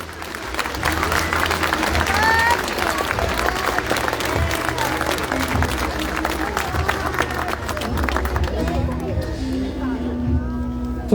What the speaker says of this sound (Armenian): առաջարկում եմ ևս մեկ անգամ ծափարել